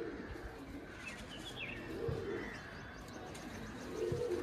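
Faint, soft cooing comes from a Kaldum hen pigeon with pearl-like stone eyes, a low rolling murmur broken by a few light chirps, swelling slightly near the end.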